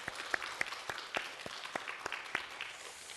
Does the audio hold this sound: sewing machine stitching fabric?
no